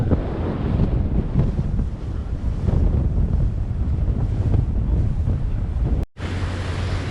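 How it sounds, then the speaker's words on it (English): Wind buffets the microphone over steady surf and open-ocean wash at the mouth of Milford Sound, a continuous loud roar that cuts out for a moment near the end before resuming. "So here we are where the Sound meets the sea."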